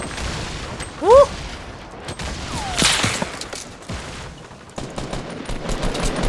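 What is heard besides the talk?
grenades exploding and gunfire in Fortnite video game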